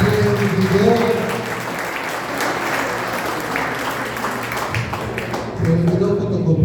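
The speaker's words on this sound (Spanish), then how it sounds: "Dale un aplauso a la catequista." Applause fills a confirmation catechism class for the catechist, a dense steady patter of clapping with voices talking over it at the start and end.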